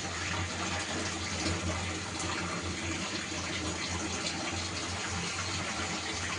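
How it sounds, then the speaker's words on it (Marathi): A steady, even rush of hot water being poured into a pan of cooking oil, continuous and moderately loud with no voices. "की गरम पाणी टाकायचं।"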